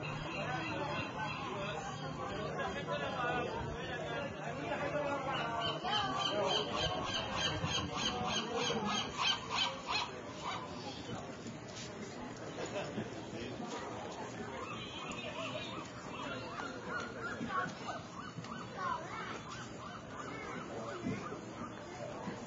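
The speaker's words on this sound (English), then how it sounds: "Seagulls." Gulls squawk and squeal repeatedly against a busy outdoor background, while people talk throughout.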